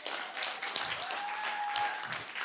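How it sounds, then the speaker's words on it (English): An audience claps at a motivational talk, a brief burst of scattered, fairly close clapping with a faint tone held underneath. "Clap like it was you."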